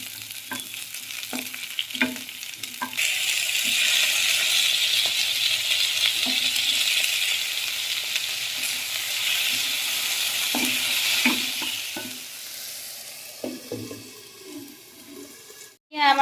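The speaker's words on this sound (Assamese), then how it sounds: "প্ৰথমতে এতিয়া ঘিউ দি কাজুকেইটা ভাজি লৈছে তাৰপাছত পিঁয়াজ বিলাহী আদা নহৰু এইখিনি বোলে অকণমান ভাজি ল'ব" Cashews, onion, tomato, ginger and garlic frying in ghee give a steady close sizzle with intermittent stirring scrapes and clinks throughout, fading near the end.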